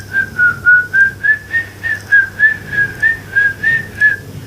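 A person whistles a series of about fourteen short, even, high notes in a steady rhythm, imitating the ringing in the ears that resembles birds.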